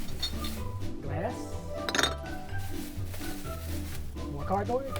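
Glass bottles and jars clinking together as they are sorted for household recycling, a sharp clatter in the middle with lighter knocks around it, close by under a steady background of music and voices.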